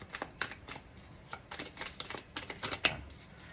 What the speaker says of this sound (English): Let's give ourselves a little shuffle here